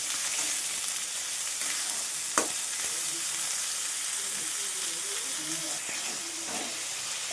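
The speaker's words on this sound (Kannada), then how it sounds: "ಆನಿಯನ್ ಈರುಳ್ಳಿ ಸ್ವಲ್ಪ ಕೆಂಪಗಾಗೋವರೆಗೂ ಹುರ್ಕೊಳ್ಳೋಣ" About four onions fry hard in a pan for paneer burji, a dense steady sizzle with a bright hiss, a few stirring clicks and soft scrapes, close and fairly loud, no voice.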